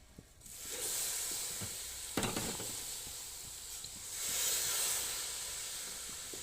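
A milk mixture for lalmohan sweets fries in a wok, giving a soft, continuous sizzling hiss that swells and fades, broken by a few scraping stir strokes, with no talking.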